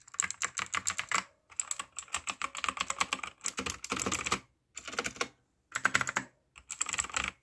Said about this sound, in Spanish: se escucha demasiado bien este teclado, me gusta demasiado